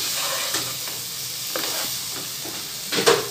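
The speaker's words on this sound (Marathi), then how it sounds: "आता याच्यामध्ये मी भेंडी घालते. छान मिक्स करून द्यायचं." Okra stirred into hot oil in a frying pan for masala bhindi fry, with a steady close sizzle and hiss, and the scrape of a spatula coming through in short bursts.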